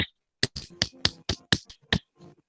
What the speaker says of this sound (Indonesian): Yeay, tepuk tangan dulu.